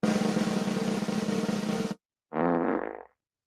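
A loud, sustained fart sound effect plays for about two seconds, breaks off into a short silence, then returns as a second, shorter buzzing burst.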